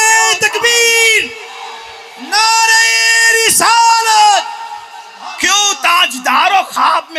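A large crowd at an Urdu religious sermon chants religious slogans in unison. Loud, drawn-out bursts of massed voices rise and break off in several waves, each answered by fresh shouting.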